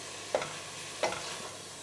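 Butternut squash and leeks sweating in butter in a pan, a soft steady sizzle with two brief stirring scrapes, no voices.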